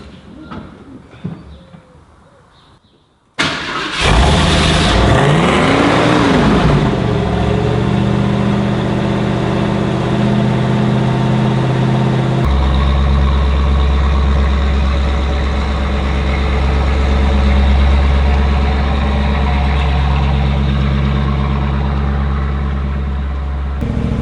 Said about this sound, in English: You need to rev it, make sure the engine's getting warm so it can idle properly.